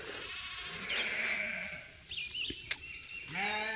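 Baby goats and sheep bleat on a farm, with several wavering, nasal calls over a steady background hiss, one brief sharp click, and a final bleat at the end.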